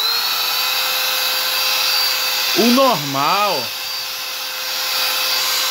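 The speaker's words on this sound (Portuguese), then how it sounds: "como eu tô com esse secador aqui para secar o nanquim" A hair dryer blows steadily up close while drying India ink on restoration work, a continuous whirring hum, with a person's voice briefly speaking over it.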